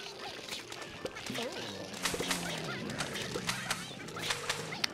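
Chickens in Plants vs. Zombies 2 cluck and squawk in short, scattered calls over game sounds, while a person talks over them.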